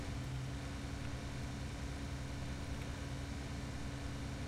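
Low, steady tractor engine hum in Farming Simulator 17 as the machine moves slowly, a faint constant drone with no change in pitch and no talk.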